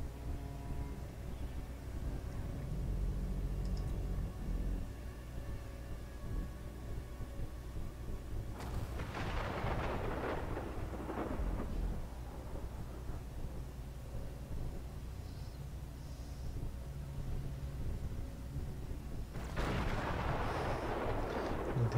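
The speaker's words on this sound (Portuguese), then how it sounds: "Tempestade aqui, hein?" Thunderstorm in the strategy game Total War: Warhammer II, with heavy low rumbling broken by two loud rolling thunder bursts, one in the middle and another near the end, under a steady ambient drone.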